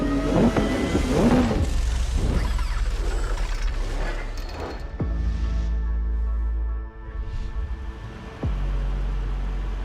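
A modified Aston Martin cup car at a Caffeine and Exotics car meet revs loudly in several sharp bursts, then settles into a rumbling idle that cuts out and catches again, with no talk.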